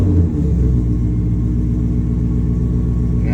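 A Gen 3 Coyote V8 swapped into a 1973 Ford F100 XLT Ranger rumbles into a steady, deep idle right after a brief start, loud and close, with no one talking.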